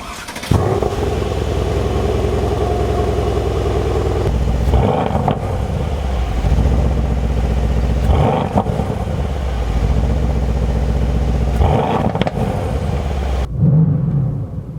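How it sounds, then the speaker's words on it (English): A 2017 Mercedes-AMG C63 S Coupe Edition 1 with a 510-horsepower engine fires up close by, then revs in repeated rising blips, each falling back with burbles and pops before the engine cuts off. "on the runoff or when the revs are going back down, it's got these burbles and pops that are just crazy"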